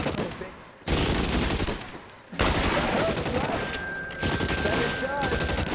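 Dense gunfire in the L.A. Noire video game, loud continuous bursts with brief pauses between volleys, mixed with game sound effects and shouting voices.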